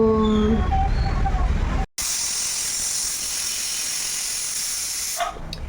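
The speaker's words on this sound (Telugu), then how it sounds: "ఇప్పుడు మనం ఒక రెండు విజిల్ వేయించేద్దాం" A pressure cooker cooking curry releases a loud, continuous jet of hissing steam that runs for several seconds after a brief cut, then tapers near the end.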